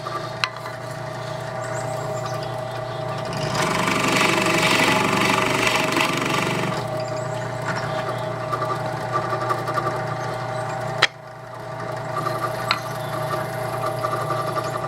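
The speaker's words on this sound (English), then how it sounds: "With the Forstner bit spinning, I can see exactly where I'm going to drill the holes." A Forstner bit drilling holes makes a continuous motor whir with a grinding, rougher stretch mid-way as it cuts, then a brief click and a steadier hum.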